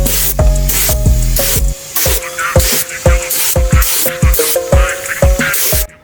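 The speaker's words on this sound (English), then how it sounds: "So I'm just gonna go through, spray this with primer" Primer sprayed from a can onto a powder-coated bull bar, heard as a string of short, close hissing bursts with brief gaps between them and no talking.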